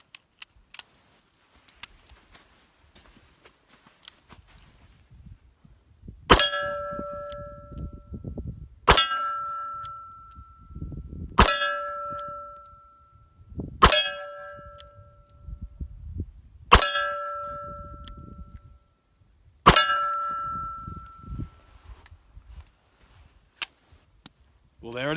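Six shots from an old Webley Mk1 revolver ring out at steady intervals of a few seconds, each a sharp loud crack followed by a bright metallic clang from a steel target, with quiet movement and faint talk between shots.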